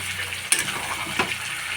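Onions added to chicken meat frying in a pan, a gentle steady sizzle with two sharper scraping strokes of a spatula, close and fairly quiet, no talking.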